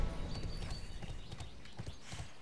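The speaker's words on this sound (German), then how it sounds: "Gut, gehen wir wieder aufs Pferd." Quiet, steady clip-clop of horse hooves at a walking pace in the video game Bless Online, soft and somewhat distant, with no talking.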